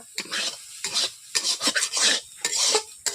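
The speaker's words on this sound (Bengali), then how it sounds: "বন্ধুরা দেখতেই পাচ্ছেন আলুগুলো আমার ভাজা ভাজা হয়ে আসছে।" Potatoes fry in oil in a wok for street-style egg chowmein, with a loud sizzle broken by repeated scraping stirs of a metal spatula in irregular bursts, no talk.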